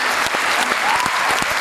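A poetry recital audience breaks into a brief, loud round of applause, with dense, continuous clapping filling the short moment.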